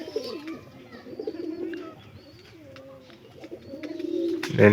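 Pigeon cooing in repeated soft, throaty phrases with a few higher bird chirps, close and fairly clear, ending with a louder burst of movement.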